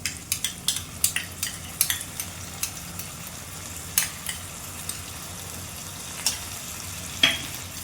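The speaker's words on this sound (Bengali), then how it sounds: "আস্তে আস্তে কষিয়েও নেবো নাড়াচাড়া করতে করতে" A spice paste for a rohu fish curry fries in a pan while a spoon stirs it, producing a soft sizzle broken by repeated sharp scrapes and clinks of metal against the pan, close by.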